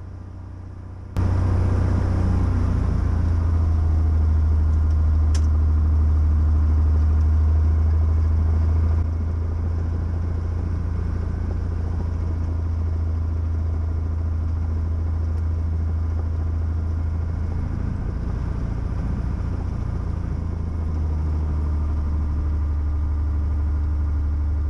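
A Cessna 170 light airplane engine idles and taxis on a grass runway, a loud steady low rumble that runs the whole time, slightly easing partway through, with no talk.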